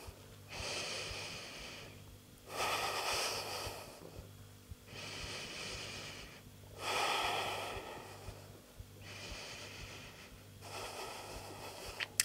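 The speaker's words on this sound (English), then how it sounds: "take three deep breaths here" Three slow, deep yoga breaths held in a plank pose: long, airy inhales and exhales in a steady alternating rhythm, close and clear with no talking.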